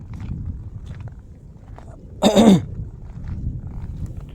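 A single short, harsh cough bursts out midway, close and fairly loud, over a low rumbling outdoor background.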